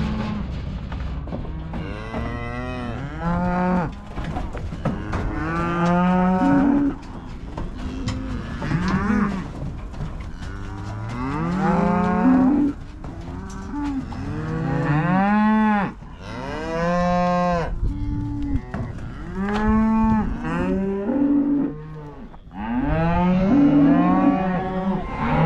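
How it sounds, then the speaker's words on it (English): A herd of cows on a ranch mooing repeatedly and loudly, long drawn-out calls overlapping one another from close and farther away, with no talking. "Cows are coming."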